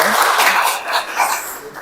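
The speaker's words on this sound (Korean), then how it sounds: "큰 박수 부탁드리겠습니다" An audience at a policy talk concert in Changwon gives a short burst of applause that is steady, dense and fairly loud, with some voices mixed in.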